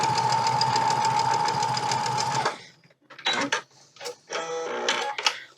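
A sewing machine runs a steady fast stitching burr through thick, bulky quilt fabric, then stops and gives several short, halting bursts as the layers are worked, close and loud.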